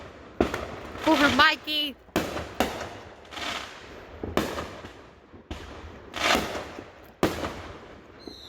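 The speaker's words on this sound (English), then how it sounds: "And I can see the fireworks" Fireworks go off across the street from a porch, a run of loud booming bursts and crackling reports spaced a second or so apart, with a person talking briefly between blasts.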